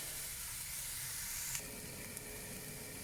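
Onions fry in spray rapeseed oil, giving a steady, even sizzling hiss throughout with a faint background hum and a couple of small clicks.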